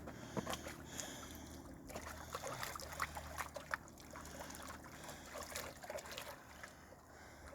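Water is poured into a bucket during gold panning outdoors, a soft, continuous trickle and splash with scattered clinks and no talking.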